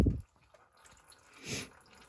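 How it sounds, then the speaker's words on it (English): Coolant drains from a radiator hose on a 2012 Chrysler Town and Country/Dodge Caravan during thermostat work, heard as two short, soft liquid splashes and drips spaced about a second apart in otherwise quiet surroundings. "That's all the coolant come out of this hose itself."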